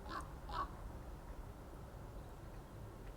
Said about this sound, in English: Oh, a nice raven going right over then.